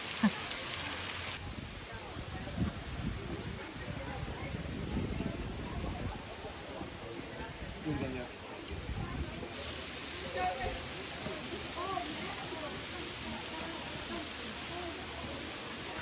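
A steady, dense rush of a waterfall roars continuously, close by and unbroken, filling the whole scene.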